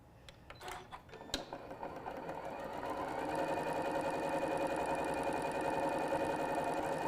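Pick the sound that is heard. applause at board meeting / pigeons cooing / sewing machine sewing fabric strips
sewing machine sewing fabric strips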